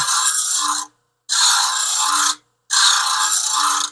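A hand plane blade is ground to reestablish its bevel, giving three long, loud, steady grinding passes of about a second each, divided by short silent gaps.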